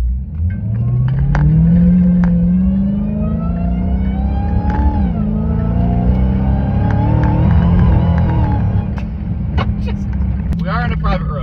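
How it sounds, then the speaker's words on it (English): 2017 Dodge Charger SRT Hellcat accelerating hard on a private road with its tires spinning, a loud rising engine roar that climbs through gears under the screech of wheelspin, with a person talking over it. "I'm getting faster than freeway speeds, and it's still just spinning the tires."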